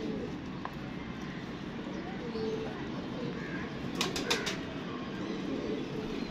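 Teddy pigeons coo softly and briefly flap their wings in a loft, a quick burst of wingbeats midway over steady background noise, while someone talks alongside.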